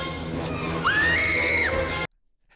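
A young girl's loud, sustained scream in a Jurassic Park film scene, rising sharply then held high for nearly a second before cutting off, over a dense orchestral and effects backdrop.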